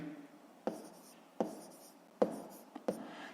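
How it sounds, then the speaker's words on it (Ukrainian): Pen or chalk writing numbers during a fifth-grade maths lesson on decimal fractions: a few sharp, distinct strokes spaced about a second apart, close and clear against a quiet room, with no talk. "Ну що ж, записуємо 37."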